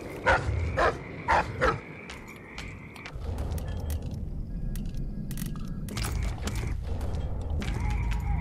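Dogs bark in the stealth video game Dishonored 2, several sharp close yaps in quick succession early on, then more scattered barks and yips over a busy background of game noise.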